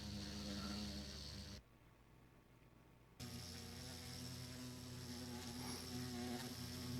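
Buzzing of bees in the survival game ARK, a steady droning hum with a dense, insect-like whir, briefly dropping to a quieter bed in the middle before returning at full level, with no talk over it.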